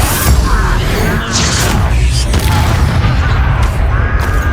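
A Confringo blasting spell detonates in Hogwarts Legacy combat, a loud booming burst under ongoing battle clatter and crackling magic effects, close and full.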